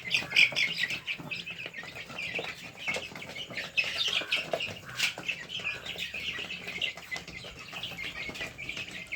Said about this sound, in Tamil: நம்ம கோழி குஞ்சுங்கள்லாம் நல்லா பசியோடு இருக்கானுங்க.